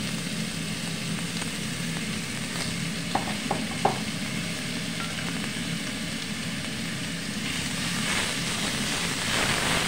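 Food frying in a pan for tofu sisig gives a steady, moderate sizzle and hiss with a few small clinks of a utensil, all close and continuous with no talking.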